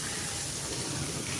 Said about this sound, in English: Great, amazing, awesome waterfall!